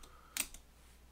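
A single key press on an STW10 calculating machine's keyboard gives one short, sharp click, close and fairly soft, followed by quiet.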